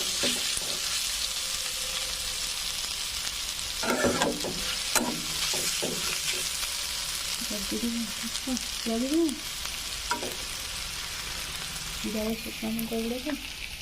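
Banana stem masala fries in a pan, a continuous close sizzle under repeated scraping and clattering of a spatula stirring the mixture in several bursts, moderately loud, with no talking.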